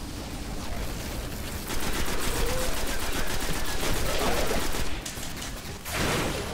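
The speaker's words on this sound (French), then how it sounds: "Alors en vrai cette grenade a fait massacre" A grenade explodes in the shooter video game Destiny, a loud sustained burst of blast and rattling gunfire noise lasting several seconds, with a brief drop and a renewed burst near the end.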